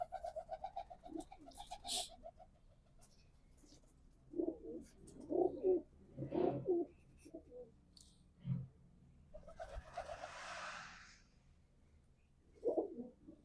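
Domestic pigeons kept by a pigeon fancier, cooing softly in a few low, throaty phrases with quiet gaps between them, faint and close, with a brief rustle near the end.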